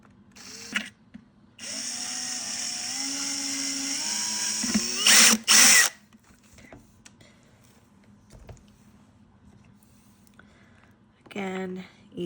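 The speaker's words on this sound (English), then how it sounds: "So I'm going to drill a hole here." A power drill whirs steadily for about four seconds boring a hole in a skull decoration, pitch shifting as it bites, then a couple of short louder bursts; quiet talking follows.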